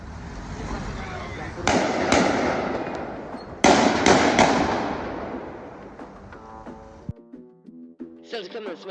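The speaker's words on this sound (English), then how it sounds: "This is the moment where shots rang out in Brussels city centre." Several sharp gunshot cracks ring out in Brussels city centre during a terror attack, two in a pair and then a quick cluster, echoing off buildings amid street noise. Birds chirp faintly afterward.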